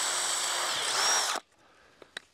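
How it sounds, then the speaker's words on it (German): Power drill pre-drilling screw holes in a wooden frame for a tomato roof, a loud close whine that stops abruptly after about a second and a half, followed by a couple of faint clicks. "Bohren vorher wie immer,"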